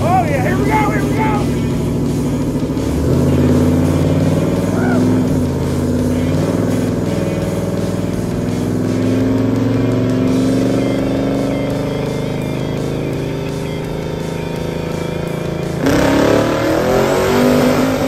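A twin-turbo 1941 Chevy roars on a dyno, its engine note building and holding loud and steady for most of the run before surging again near the end, with excited voices talking over it.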